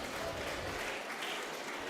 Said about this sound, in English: Just provide the very big round of applause